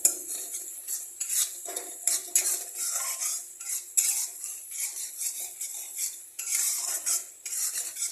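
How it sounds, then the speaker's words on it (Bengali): Spiced chicken masala is stirred in a pan with a metal spoon, giving repeated close scrapes and clinks against the cookware in an uneven rhythm and a faint sizzle underneath. "এখন এটাকেও আমি 1-2 মিনিট নাড়িয়ে নেব"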